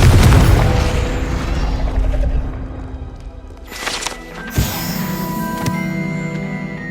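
A Confringo spell explosion from the Hogwarts Legacy video game lands as a heavy booming blast at the start, with rumbling debris. Sharper bursts and magical chimes follow later amid game ambience.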